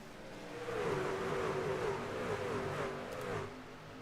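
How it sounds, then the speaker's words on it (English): NASCAR-style trucks racing at Pocono Raceway in a racing video game drone steadily with a loud, sustained engine roar and a rising and falling pitch, with no one talking. "I love the sound of these trucks whenever they get going"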